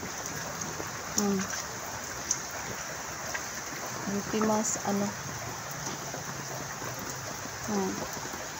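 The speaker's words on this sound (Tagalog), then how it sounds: "Bili na kahit umuulan at bumabaha" Heavy typhoon rain falls steadily as a constant hiss across a flooded area, with voices talking over it.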